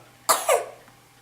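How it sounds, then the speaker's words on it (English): A baby girl gives two quick, light coughs up close, followed by quiet. "She's smiling as she coughs."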